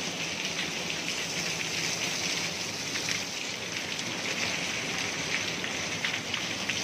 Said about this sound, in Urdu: بارش، شدید بارش کے دوران اس طرح کی آوازیں، اس طرح کے دھماکے